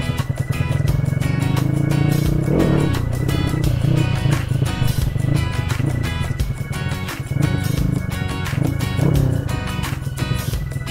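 XRM underbone dirtbike motorcycle with a 253cc engine revving hard during a wheelie session, loud raspy continuous engine roar rising and falling through gear changes, close to the listener.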